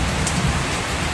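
A steady roar of heavy rain falls on a village house during a dark storm, a dense and even wash of noise with no voices.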